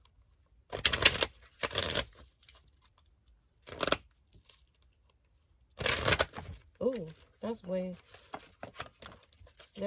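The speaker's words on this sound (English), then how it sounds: "just me shuffling and cards just flowing out" Oracle cards from a Romance Angels deck are shuffled in a few loud, brisk riffling bursts separated by quiet gaps, with a voice talking briefly near the end.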